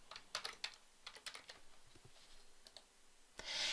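Light, irregular clicking of fingers typing on a computer keyboard, quick bursts of keystrokes with brief pauses, quiet and close with no speech.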